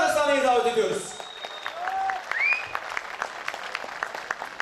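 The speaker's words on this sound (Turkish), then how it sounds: "Ulubey Belediye Başkanımız Sayın Ali Rıza Ada Beyefendi'yi alkışlar." A crowd claps steadily, the applause continuing under a voice while brief whistles ring out.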